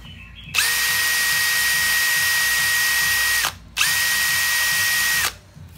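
Makita XFD11 cordless drill run at full speed in two long bursts, a steady high motor whine with a short pause between them, loud and close, with no talking.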